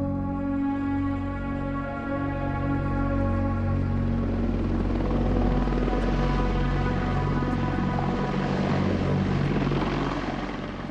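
An unmanned AH-6X Little Bird helicopter flying, a steady loud rotor and turbine drone with a strong low throb that holds at an even level throughout.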